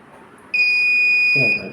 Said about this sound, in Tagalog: Yan, nag-a-alarm na.